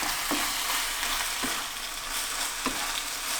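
Pasta is stirred into sauce in a pan, a steady close sizzle with three soft scraping strokes of the spoon at regular intervals, no voices.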